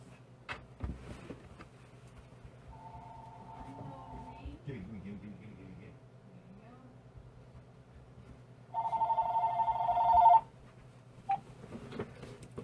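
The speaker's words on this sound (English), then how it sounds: "Phone." A telephone rings during a live stream, a short electronic tone followed later by a louder, longer ring burst, with sparse clicks and low room noise around it.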